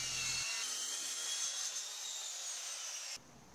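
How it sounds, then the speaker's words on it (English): A circular saw rips through the wooden top of a reclaimed-wood farm-style dining table made from old garage doors, giving a steady rasping cut that stops near the end. "used the circular saw to square out the top"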